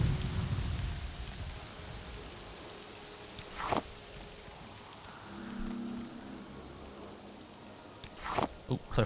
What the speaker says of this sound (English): Oh yes, we're in that rainy part of the Ashlands.